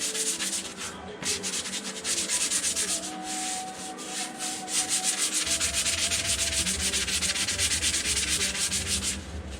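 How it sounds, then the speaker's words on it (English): Light sanding on a Volkswagen Beetle quarter panel repair section: continuous gritty rubbing strokes on sheet metal, close and steady, with a machine hum coming in partway through and no speech. "You're just lightly sanding it."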